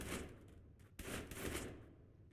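Rapid bursts of gunfire fill a video game scene as an improved human is shot up, loud and continuous with a sharp crack near the middle and no voices over it.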